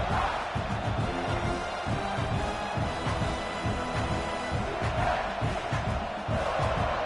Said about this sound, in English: This crowd, full throat, spreading the eardrums and letting them know it's going to be a long day.